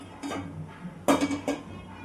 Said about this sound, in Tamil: இப்போது ஸ்டவ் ஆன் பண்ணி பாத்திரம் வச்சு எண்ணெய் சேர்த்துக்கலாம்